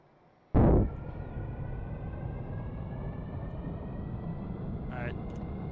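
An aircraft engine spools up in the Stormworks game, a sudden loud burst followed by a steady droning rumble with rising whine tones, while a voice talks over it.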